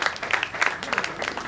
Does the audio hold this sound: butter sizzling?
no